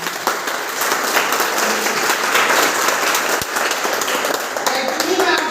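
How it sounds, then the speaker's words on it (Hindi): Audience at a network marketing motivational talk applauding, a dense, sustained wash of clapping from many hands filling the room, close and loud throughout. "एक बार जोरदार तालियां बजाइए आप सबके लिए।"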